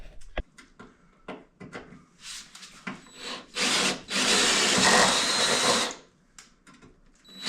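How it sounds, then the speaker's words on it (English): A power drill bores holes in a metal light mount for a 1982 VW Vanagon KC lights install, with short bursts of whirring separated by quiet handling clicks, up close and loud during the longer runs. "I'm gonna drill those holes out."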